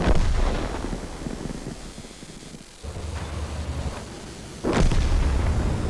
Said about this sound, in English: Artillery, that's what it is.